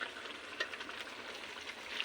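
Duck meat cooking in a blackened pan on a clay stove, a soft steady sizzle with faint crackles and pops, fairly quiet and continuous, with no talking.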